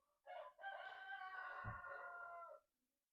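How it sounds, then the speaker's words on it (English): A rooster crows once, a loud drawn-out cock-a-doodle-doo preceded by a short opening note, heard fairly close and alone. "Stupid rooster."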